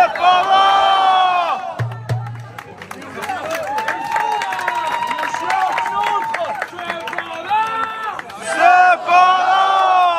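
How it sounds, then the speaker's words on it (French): A dense festival crowd at the international 1,2,3 Prout fart championship in Parthenay (FLIP 2024) cheers and shouts loudly, with many voices swelling together in waves and a short low rumble partway through. "Un tonnerre d'applaudissements pour les accompagnateurs du Cependant."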